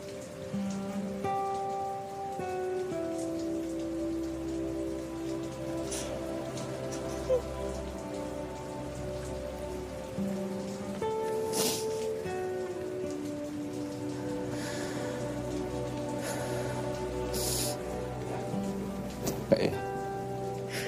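Rain falling on surfaces in a steady, close patter that runs throughout, with a film score's sustained tones layered over it and a few brief louder knocks.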